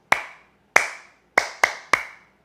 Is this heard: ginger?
no